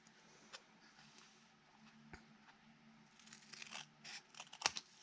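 Scissors snip and trim the edge of a paper mache haunted coffin house, giving quiet crisp cuts and crinkling that grow denser toward the end, close and faint.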